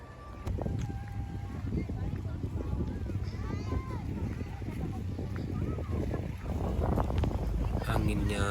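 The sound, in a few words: strong wind blowing at Danau Biru lake, Indralaya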